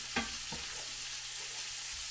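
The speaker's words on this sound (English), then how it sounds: "cooking bacon is one of my favorite things" Bacon fries in a pan with a soft, continuous sizzling hiss, quiet and even, broken by a couple of faint taps near the start.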